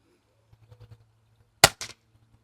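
An air gun fires at a target in a garden range: a single sharp crack followed by a quick secondary snap, preceded by soft clicks in a quiet setting.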